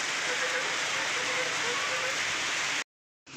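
Steady, dense rain falls on surfaces in a village, a constant hiss with faint voices under it, then it cuts off abruptly near the end.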